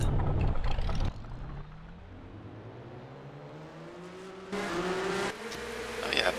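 V6-powered race trucks in a FARC Truck Series race at Upper Michigan Speedway whine past, their engine note climbing steadily in pitch, with a sharp surge of louder, nearer engine noise midway before settling back.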